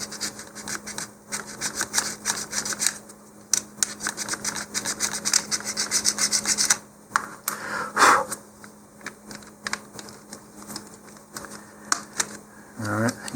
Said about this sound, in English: I'm just going to do a little bit of filing there.